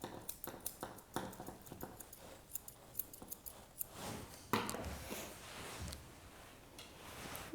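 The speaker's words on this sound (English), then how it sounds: "Just going back to my other scissors just to tidy the foot." Grooming scissors snip at the fur on a dog's foot in a steady run of small, crisp clicks up close, with a few rustles and soft handling sounds between the cuts.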